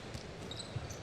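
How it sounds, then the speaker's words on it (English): A basketball is dribbled during a FIBA World Cup game between the Dominican Republic and the USA, with two faint, distant bounces buried under a low, steady arena murmur. "When he faces up, takes the dribble to the middle."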